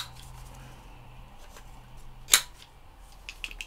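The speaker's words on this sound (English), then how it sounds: "round your corners off." A corner rounder punch cutting a paper envelope corner gives one sharp, close crunching snap partway through, with a few faint paper rustles and clicks around it in a quiet room.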